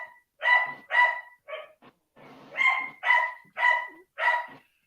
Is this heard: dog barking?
yes